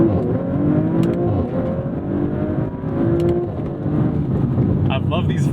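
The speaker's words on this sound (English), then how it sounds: "I love these violent shifts." A 2022 Audi B9 RS5 Sportback's engine snarls through a series of violent gear shifts, the revs rising and dropping sharply, with a voice talking over the steady drone.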